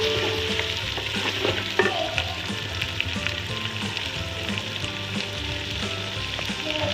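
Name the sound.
chicken frying in masala for murgh cholay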